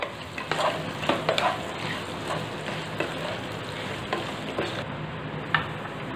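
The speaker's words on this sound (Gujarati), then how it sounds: "પરવળની જે ચીરીઓ કરી હતી તે ઉમેરી દઈશું અને સરસ મિક્સ કરી લેવું" Pointed gourd slices stirred into garlic in a hot pan give a soft continuous sizzle, with spatula scrapes and taps ticking through the frying, close and fairly quiet with no talk.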